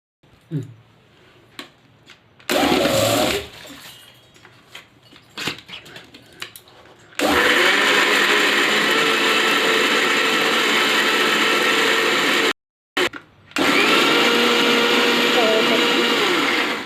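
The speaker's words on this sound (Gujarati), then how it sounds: "હવે આપણે થોડું એવું પાણી જોઈતા પૂરતું નાખશું અને મિક્સરમાં ચટણી કરીશું" A mixer grinder blending chutney with water whirs loudly in short bursts, then runs in a long steady high-pitched roar, stops briefly, and starts again.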